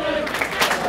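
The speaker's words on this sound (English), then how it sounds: "Crowd cheering on Joey Dalton" Wrestling crowd at ARW Harvest Moon cheering loudly for Joey Dalton, a dense roar of voices and scattered clapping filling the short moment, with commentary voices mixed underneath.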